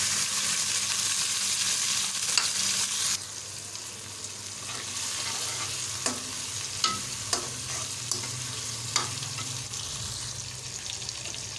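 Tomatoes and green chilies frying in a pan, a steady loud sizzle with a spoon scraping and tapping the pan several times, no voices.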